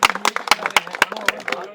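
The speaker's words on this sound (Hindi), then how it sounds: "मनवा खेड़ा टीम से सभी जने एक साथ ताली बजा सकते हैं।" Villagers of Manwakheda clap together at a village election meeting, a close run of sharp, roughly evenly spaced claps about four per second, with talking mixed in.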